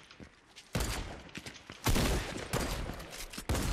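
Video game gunfire crackles in sharp bursts, several loud volleys of rapid shots separated by brief pauses.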